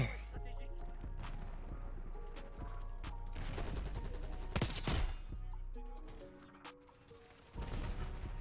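Bursts of rapid gunfire crackle through a Black Ops 6 match, some shots close and sharp, others scattered, with a loud cluster near the middle and a final burst at the end.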